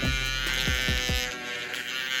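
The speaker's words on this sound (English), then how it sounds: "It's like a nail grinder." A small electric nail grinder buzzes close by with a steady high whine, its pitch dipping a few times as it presses against a nail.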